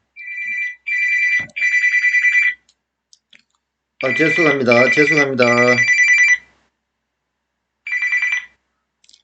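A telephone rings with an incoming call in repeated electronic ring bursts, loud and close, the rings pausing while someone speaks briefly over them before the ringing resumes once more.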